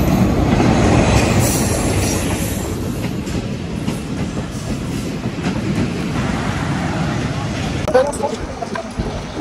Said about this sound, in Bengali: তো বন্ধুরা দেখতে পাচ্ছেন যে অবশ্যই ট্রেনটি চলে এসেছে।